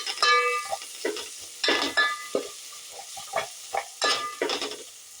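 A spoon scrapes and clatters through vegetable biryani masala in a pot, with irregular bursts of metallic stirring and a faint sizzle between strokes, close and distinct with no talking.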